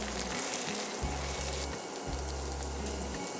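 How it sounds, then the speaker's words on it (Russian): Tomato paste fries in a pan with a continuous bright sizzle, while a low mechanical hum starts and stops several times underneath, like a nearby appliance or extractor running in short bursts. "Три столовых ложки томатной пасты. Обжариваем хорошо"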